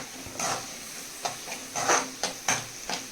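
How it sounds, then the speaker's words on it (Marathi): Tomato fusion rice with Maggi masala being stirred in a hot pan, a spoon scraping through it in several short, uneven bursts over a faint steady sizzle, close and with no talking. "त्याला आपण छानपैकी मिक्स करून घेऊया."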